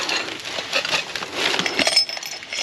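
Broken glass items and a shattered frame from a dumpster clink and rattle as they are handled, with close, irregular bright chinks and scraping sounds and no talk.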